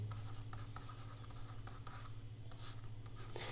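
A teacher writes on a board in a Hindi vocabulary lesson, producing a quick run of close scratchy strokes over a steady low room hum, with no talking.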